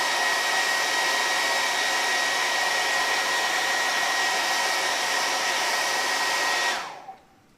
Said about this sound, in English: drying it with the hair dryer.